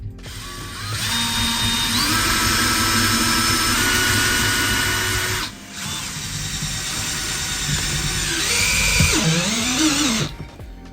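A power drill whines loudly as it drives self-drilling screws into van framing in two long runs with a brief pause between them, the pitch shifting as each screw seats.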